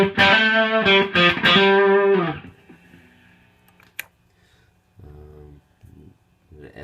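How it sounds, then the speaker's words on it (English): Electric guitar played through a Nobels ODR-1 or Visual Sound Open Road overdrive pedal with the drive turned up, loud sustained distorted chords that ring out and decay, then a few quieter short picked notes. "I'll try on the fly to match drive tones here a bit with a little bit more drive."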